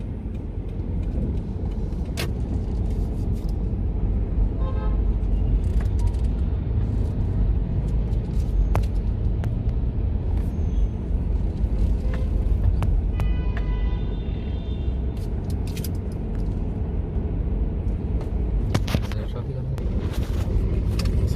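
Steady low road rumble fills the cabin of a moving car driving through city traffic in Dar es Salaam, with faint clicks and a few high ticks over it and a voice speaking at times.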